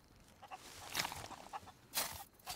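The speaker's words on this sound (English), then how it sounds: "chickens. Chickens as well." Chickens cluck in the Sea of Thieves pirate game, a few soft, short clucks and squawks at a distance over faint background noise.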